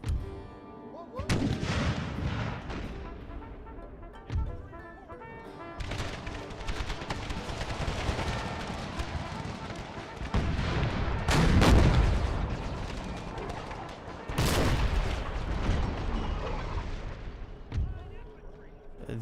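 Howitzer artillery fire in the Empire: Total War Brothers vs. Brothers mod, a Civil War-era battle: booming cannon blasts and rolling gunfire over battlefield din, several heavy reports spaced apart, with speech underneath.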